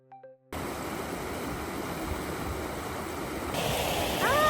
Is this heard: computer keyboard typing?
no